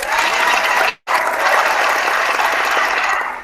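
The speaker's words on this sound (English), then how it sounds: "Let's give Mr. Steve Gray a round of applause." Boxing crowd applauding the referee before a Ricky Burns vs Julius Indongo title fight in Scotland, a loud dense wash of clapping that briefly cuts out, then continues steadily.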